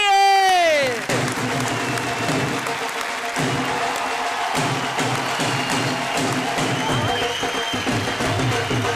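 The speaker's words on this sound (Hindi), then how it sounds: "इन कवियों के लिए एक बार जोरदार तालियां बजाइए" An audience at a Hindi comedy and poetry show applauds the poets, with sustained clapping and crowd noise after a brief musical sting at the start, continuing steadily throughout.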